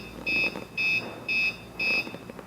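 An EX3001L device sounds four evenly spaced electronic beeps, each about a quarter second long, sharp and fairly loud over a faint background hum.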